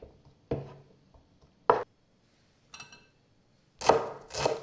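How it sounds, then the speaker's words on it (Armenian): A knife chops Emmental cheese finely on a board in a few separate sharp taps, with quiet gaps between them and a quick double chop at the end, close and with no voices. "հալվող պանիր է մեզ անհրաժեշտ լինելու, պետք է մանր կտրատենք"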